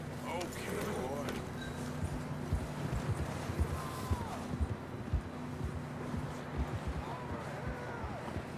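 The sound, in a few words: horse hooves clip-clopping while riding, from video game Red Dead Redemption II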